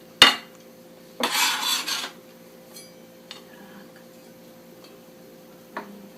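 A knife taps out a few separated chops on a cutting board while julienning vegetables, one sharp knock, a short burst of rapid cuts, then sparse faint ticks in a quiet room.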